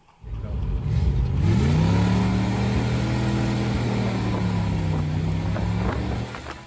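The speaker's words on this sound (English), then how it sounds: "We can hear the sound of the engine." An open-top 1961 Corvette Fuelie's engine starts up and runs close by, its revs climbing then holding a steady hum, with wind rushing past.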